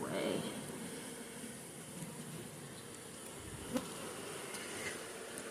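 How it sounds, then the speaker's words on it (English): Honeybees buzz around an open hive during comb repair, a dense, steady droning hum close by with a faint thud partway through, continuous under the scene. "There's so many bees."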